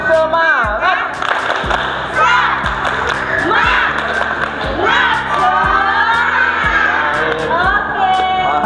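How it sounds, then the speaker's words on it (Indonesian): Kindergarten children at an outdoor adventure activity do a spirit clap together, with crisp rhythmic group clapping mixed with lively shouts and chanting voices throughout. "Kita coba tepuk semangat."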